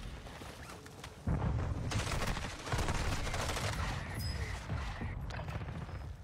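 Faint, rapid automatic gunfire in Call of Duty Warzone starts abruptly after a quiet moment, then carries on as a sustained rattling stream with a few gaps. The whole sequence sounds fairly distant and low in level.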